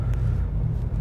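A 4.6L V8 engine idles steadily with a deep, even low-frequency rumble throughout, no misfires, close and continuous with no talk.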